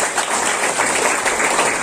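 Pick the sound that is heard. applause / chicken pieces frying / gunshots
applause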